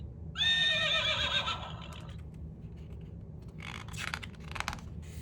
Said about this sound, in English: The horse gallops in the field.